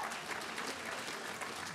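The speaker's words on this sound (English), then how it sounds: "Give them a round of applause, we go." Dense, even applause from an audience at an awards ceremony, a brief continuous wash of clapping at moderate volume.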